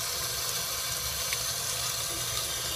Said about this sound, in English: Kind of get some water down in your coil, turn it upside down, get all of this completely rinsed out.